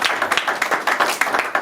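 A church congregation claps in praise of Jesus during a seminar service, brisk rhythmic handclaps in quick repeated bursts, fairly close and loud.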